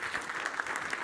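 A round of applause from an audience at a talk: dense, steady clapping that fills the short moment at an even level, with no speech over it.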